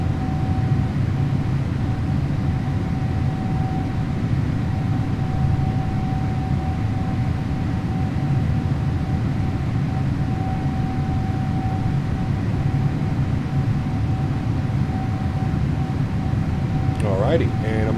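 Steady broadband roar of a PMDG 777-300ER airliner climbing after takeoff, FT Sim sound pack in Microsoft Flight Simulator, with a constant droning hum and faint tonal whine running unbroken throughout.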